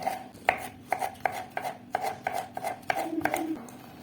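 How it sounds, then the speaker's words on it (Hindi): A knife chops a tomato into cubes on a cutting board in about eight sharp, evenly spaced thuds, close and distinct over a quiet kitchen background, with no talking. "इसको भी मैं अब इस तरह से करके क्यूब्स में काट लूंगी।"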